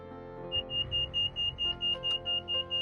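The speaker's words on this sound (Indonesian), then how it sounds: "Tanpa sengaja mereka membunyikan alarm toko." A shop alarm goes off with a loud, rapid run of repeated electronic beeps in an even, pulsing rhythm, sounding alone without talk.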